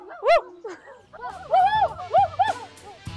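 A dog barks and yips in a few sharp, close bursts, with pauses between them and a louder run of barks near the end.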